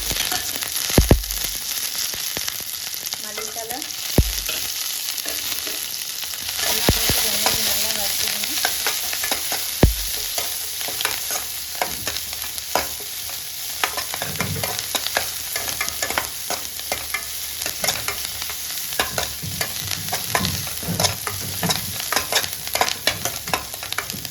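Bitter gourd fries with onion, green chilli and curry leaves in a pan, crackling and sizzling steadily while a spatula stirs with scraping strokes and occasional sharp knocks against the pan.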